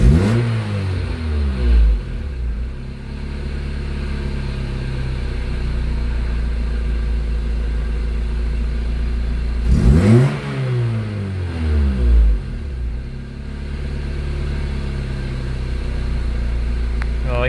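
A Honda Civic engine idles steadily near 750–800 RPM after a fix for high idle and coolant loss, a low even rumble that swells briefly twice, heard close with no voices.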